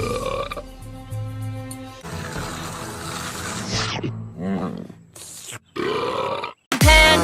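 A string of deep, drawn-out burps from bears, some rumbling and gurgling and others loud and abrupt, separated by brief pauses.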